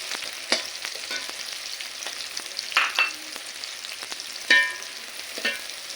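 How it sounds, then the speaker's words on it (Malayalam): Red shallots, about a quarter kilo of small onions, frying in oil in a pan for a beef roast, crackling steadily with a few louder pops and stirring scrapes, close by and with no voices. "അതിൽ ആദ്യമായിട്ട് ഇട്ട് കൊടുക്കുന്നത് ചുവന്നുള്ളിയാണ്, ചെറിയ ഉള്ളി."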